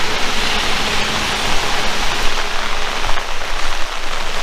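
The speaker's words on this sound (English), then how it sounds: "the water running off is a true sign that the product is working" Rainwater streams and patters steadily off a freshly waxed car, with a dense, even hiss of water close by.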